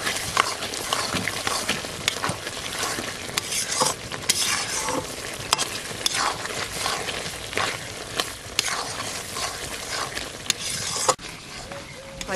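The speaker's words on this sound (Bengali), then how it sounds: "এখন চিকেন মশলাটা দিয়ে দেব কিছুক্ষণ নাড়াচাড়া দিয়ে নিয়ে দেব" Chicken masala with gizzard and liver is stirred while frying in a pan, with continuous close sizzling broken by rhythmic scraping and clinking spatula strokes.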